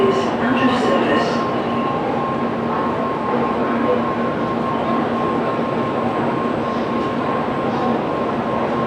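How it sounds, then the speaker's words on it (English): A Shinkansen bullet train at Tokyo Station hums in a steady, broad rumble throughout, with faint station ambience and a person speaking lightly over the noise. "That Shinkansen is leaving over there."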